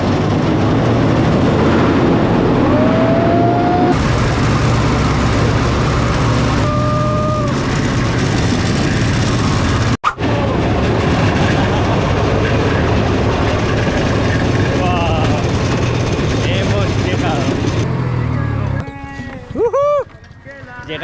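A rail cart powered by a Vespa motorbike engine runs along a railway track in Colombia, giving a loud, continuous engine drone and track rumble that goes on the whole time, with people talking over it.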